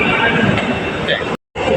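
An MRT metro train rumbles into a station, a steady broad roar with voices talking over it, cut off abruptly near the end.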